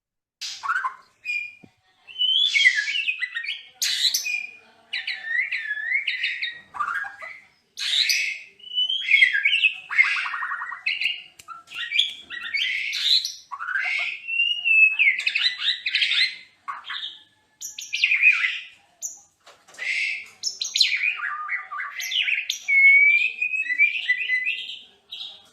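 A long-tailed, glossy black bird with reddish-brown underparts sings a continuous, varied stream of clear whistles, chirps and squawky notes, close and fairly loud, with no voices.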